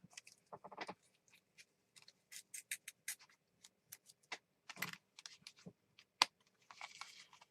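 Scissors cutting through a dollar-store tapestry placemat, heard as a close run of quiet, irregular snips and fabric crunches separated by short pauses.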